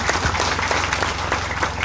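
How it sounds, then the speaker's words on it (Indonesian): A crowd at an outdoor election campaign rally in Sumba Barat Daya, Indonesia, applauds a vice-regent candidate steadily, many hands clapping together at a moderate distance for a short burst. "tepuk tangan untuk calon wakil bupati"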